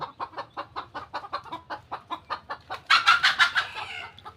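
Desi chickens on a free-range poultry farm in Bangladesh, a rapid run of evenly spaced clucks close by, swelling into a louder, harsher burst near the end.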